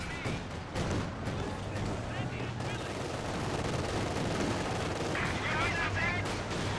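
Small arms fire crackles in rapid, dense bursts during a Company of Heroes 2 battle, continuous and fairly distant, with a commentator's voice running over it.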